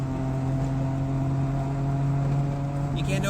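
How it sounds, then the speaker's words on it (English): Saab 95 two-stroke engine running with a steady, droning buzz at fairly constant revs, close and continuous for a few seconds, with some faint background noise at the end. "The more it revs, the happier it is."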